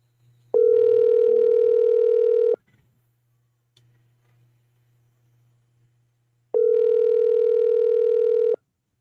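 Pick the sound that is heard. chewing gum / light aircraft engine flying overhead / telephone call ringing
telephone call ringing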